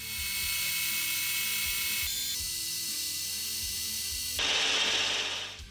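Metal lathe taking a skim pass off a steel bar while making a tailstock threading die holder, a continuous mechanical whir and hiss with an abrupt shift in tone partway through, close and steady.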